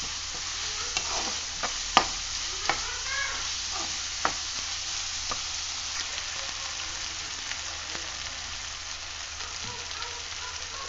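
Onions and masala fry in a pan for vadacurry, with a continuous sizzle and repeated scraping and tapping as a spoon stirs them.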